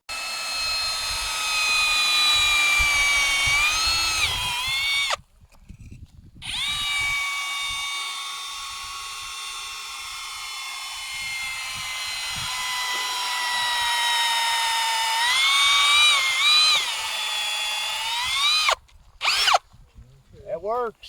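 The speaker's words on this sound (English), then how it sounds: "Testing out power tools today, huh?" A high-pitched power tool drills steadily at a fossil dig site, whining loud and close in long runs that shift slightly in pitch, with short breaks between them.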